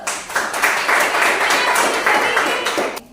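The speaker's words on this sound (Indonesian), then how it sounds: "tepuk tangan dulu" Children in a classroom clapping hands together on a teacher's cue; a short burst of loud, uneven clapping close by, with voices mixed in.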